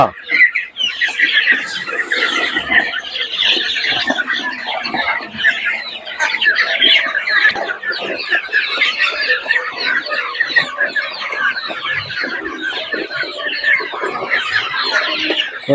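Two-month-old Giriraja chickens on a farm in Kayamkulam cluck and chatter in a dense, continuous flock, loud and close, with occasional higher squeals and a voice talking intermittently over the birds.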